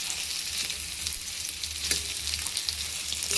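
Half-boiled colocasia (taro root) pieces frying in a pan give off a dense, steady hiss and crackle, close up and even, with no voices over it.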